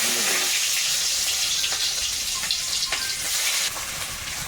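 Onion is dropped into hot oil left in a pan after frying potato and elephant foot yam. The loud, close, continuous sizzle has light stirring and scraping in it and eases slightly toward the end.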